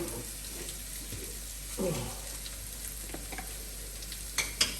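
Onion frying in a pan for shepherd's pie, a steady soft sizzle with a few louder clinks and scrapes near the end, no talking.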